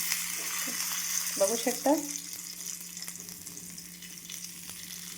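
Sweet potatoes roast on an iron griddle, giving a steady, low sizzle throughout with a few clinks and scrapes as they are turned. A voice speaks briefly near the middle.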